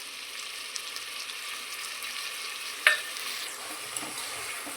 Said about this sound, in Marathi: आपण इथे मिक्स करून घेणार आहोत, नीट हलवून घेणार आहोत आणि आपण यामध्ये हा धुवून घेतलेला मसूर ॲड करणार आहोत।